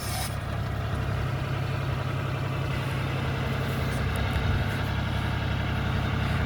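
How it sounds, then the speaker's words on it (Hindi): A Bull backhoe loader's diesel engine runs steadily while filling a pit, a continuous low rumble holding an even idle-like pitch throughout, close and unbroken, with no talking. "अभी इसकी जो आरपीएम है इसका 11 आरपीएम पे मशीन चल रहा है बैको लोडर।"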